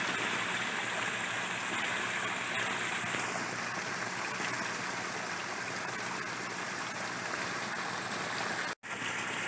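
Water from breeding tanks drains into a pond in a continuous, broadband rushing flow, steady and fairly loud throughout with no voices, cutting off abruptly for an instant near the end.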